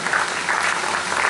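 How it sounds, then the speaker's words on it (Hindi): Loud, dense applause from a large audience at a political youth-wing gathering, a steady wash of clapping filling the whole moment without a break. "जोरदार तालियों से"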